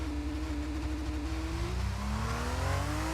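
An F2 race car at COTA (Circuit of the Americas), its engine revving as the driver goes onto the throttle: a loud, sustained engine note that climbs steadily in pitch, with a low rumble underneath and no talking.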